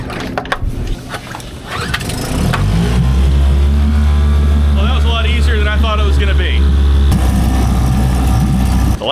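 Boat outboard motor starting and settling into a steady loud running drone with the propeller spinning, a sputtering start with voices over it, then a constant close engine note.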